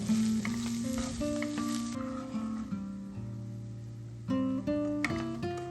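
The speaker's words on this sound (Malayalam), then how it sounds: "വെണ്ടയ്ക്ക കഷ്ണങ്ങളെല്ലാം അതിലേക്ക് ഇട്ട് കൊടുത്ത് ഒന്ന് വഴറ്റുക" Okra pieces shallow fry on a tava with a loud, steady sizzle, broken by brief bursts of stirring and shifting in the hot oil, close and continuous with no talk.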